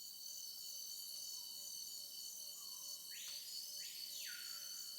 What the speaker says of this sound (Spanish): ¿O quizás algunos grillos que apenas comienzan su turno nocturno de búsqueda de pareja?